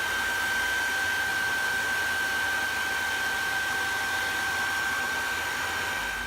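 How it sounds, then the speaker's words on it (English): A hairdryer drying watercolour pencil work blows steadily and loudly, a constant airy roar with a thin high whine that never lets up. "hairdryer."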